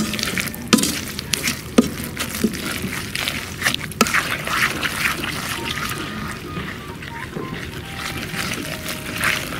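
Pasta being stirred with cheese and butter in a school kitchen gives a continuous close, wet sizzling and sloshing, broken by a few sharp clicks of a utensil against the pot.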